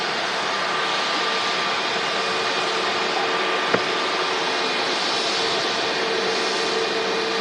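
EasyJet jet just arrived from Belfast taxiing near the Manchester Airport visitor park, a constant loud jet engine whine and rumble with a brief click partway through, no talk.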